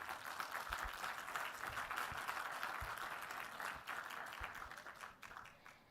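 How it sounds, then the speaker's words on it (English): An audience at a panel discussion on economic growth for North-East India gives sustained applause to welcome a panelist, a dense, even patter of many hands that fades slightly toward the end. "Let us welcome him with a big round of applause"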